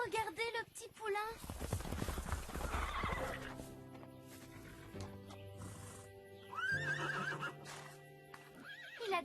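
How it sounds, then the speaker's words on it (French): Wild horses and a young foal in a sanctuary neigh in several loud, shrill whinnies, with hoof clip-clops and movement between them and a voice speaking at times. "Oh, regardez le petit poulain."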